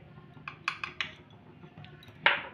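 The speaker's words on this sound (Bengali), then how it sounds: "ভালো করে কিন্তু দুধের সাথে মিশিয়ে নিতে হবে, যেন এখানে গুটি গুটি না পড়ে" A spoon stirs custard powder into milk, a few light close clinks and taps against the bowl, then a brighter scrape at the end, over a quiet background without speech.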